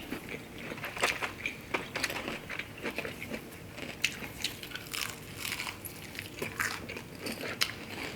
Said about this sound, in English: It sounds really crunchy.